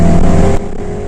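A Mini John Cooper Works F56 with a Stage 1 tune accelerating, a loud close engine drone that cuts off abruptly halfway through into a quieter hum.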